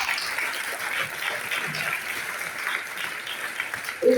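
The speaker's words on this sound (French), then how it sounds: "Applaudissements, s'il vous plaît, poète." Applause rises from the audience at a festival closing and prize-giving ceremony in Mauritius, a steady wash of many hands clapping from a moderate distance, ending as a voice begins.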